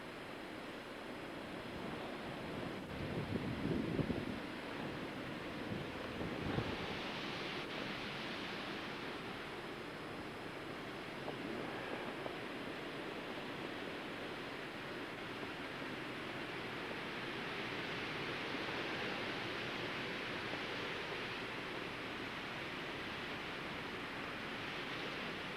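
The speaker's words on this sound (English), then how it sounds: "Well, you got some wind starting up now." Wind rising outside during the 1993 blizzard in New London, New Hampshire, a steady broad rushing roar that swells and ebbs gently, fairly faint and with no one talking.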